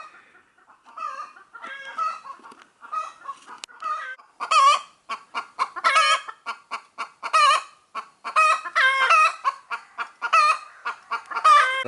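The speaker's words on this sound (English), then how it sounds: "the chickens are super noisy" Chickens cluck busily and repeatedly, close by and fairly loud, with a rooster's crow breaking through the steady squawking chatter.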